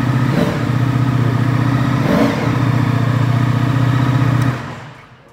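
Close by, a Ducati Multistrada V4 RS motorcycle still carrying its exhaust catalytic converter idles loudly, blips its throttle in two quick revs, then settles and cuts off at the end.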